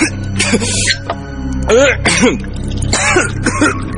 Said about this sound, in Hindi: जैसे जैसे उसकी खांसी बढ़ने लगी, धीरे धीरे हम सब उसके लिए परेशान होने लगे